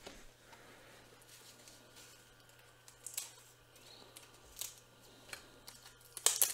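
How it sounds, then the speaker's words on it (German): Scissors snipping open sealed card packaging for a trading card opening, a few crisp cuts and rustles sounding close and fairly quiet, with the sharpest snips near the end and no talk. "Wir brauchen wieder die Schere."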